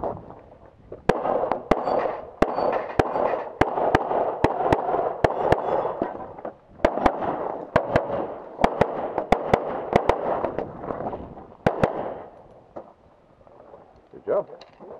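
Pistol gunshots on a USPSA shooting stage, a rapid series of about two dozen sharp cracks in quick strings with short pauses, over a steady wind-like rumble.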